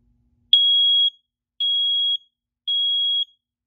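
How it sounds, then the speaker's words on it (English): Three loud, steady high-pitched electronic beeps from a smoke detector being tested with its button, each about half a second long, evenly spaced, with nothing else heard. "I'll now go ahead and test the smoke detector by just clicking the button."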